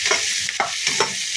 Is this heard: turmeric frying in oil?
yes